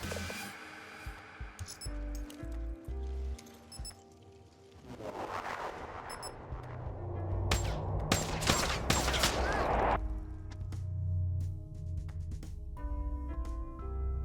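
Assault rifle fire in Call of Duty Black Ops 3 during a Search and Destroy match on the Combine map, with rapid bursts of game gunfire over a humming soundtrack and tonal game effects.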